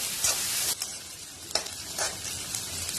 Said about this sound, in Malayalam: ഇനി നമുക്ക് ഈ സവാള വഴറ്റിയെടുക്കണം.